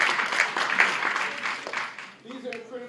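A brief burst of applause from a crowd, clapping for about two seconds before fading out as a voice starts speaking.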